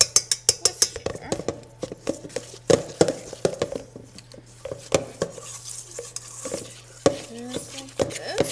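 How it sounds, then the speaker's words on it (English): A whisk beating powdered sugar icing for cinnamon buns in a bowl, a rapid string of sharp metallic clinks and taps against the bowl, close and fairly loud, with brief pauses between bursts. "Just whisk it until it's all smooth."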